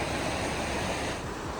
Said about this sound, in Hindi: ये जो आवाज़ आती है ना नदी की, काफ़ी ज़्यादा ही सूदनिंग होती है।